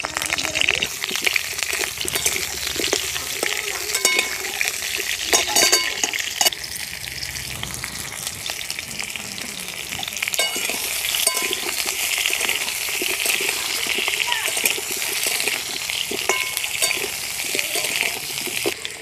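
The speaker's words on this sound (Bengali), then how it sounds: "তেলটাও গরম হয়ে গেছে। আলুগুলো দিয়ে দিলাম।" Potatoes frying in hot oil in a home kitchen, a steady loud crackling sizzle with occasional stirring clinks that holds throughout with no one speaking.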